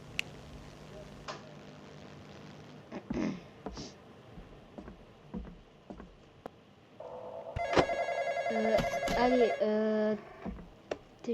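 A telephone rings in the horror video game The Intruder, with repeated electronic ring bursts in the second half. Scattered ticks and clicks come before it, and a person speaks briefly.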